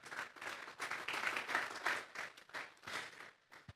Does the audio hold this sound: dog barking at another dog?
no